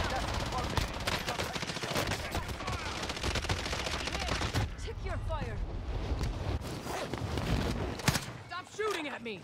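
TEC-9 submachine gun fire in Call of Duty Warzone on Rebirth Island, rapid bursts of automatic shots crackling through much of the stretch, with a player talking over the gameplay.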